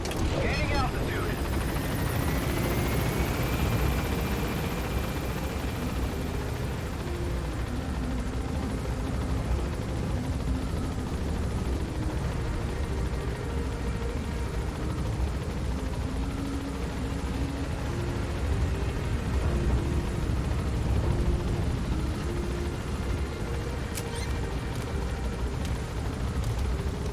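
In the Metal Gear Solid V video game, a helicopter gaining altitude gives a steady loud rotor roar and engine whine, with occasional game sounds and a voice talking over it.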